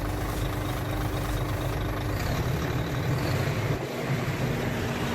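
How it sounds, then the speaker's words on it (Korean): A large bus diesel engine drones steadily nearby as its RPM is raised from the engine room, its low rumble holding constant with a slight rise, no voices present. "위로 올리면 RPM이 상승하게 됩니다."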